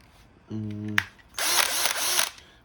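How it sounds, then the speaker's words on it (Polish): A Bosch GSR12-2 Li-Ion cordless two-speed non-impact drill driver whirs loudly for about a second in one burst, preceded by a brief faint click and soft tonal hum, with no one talking. "Jest to bezudarowa, dwubiegowa wiertarko wkrętarka."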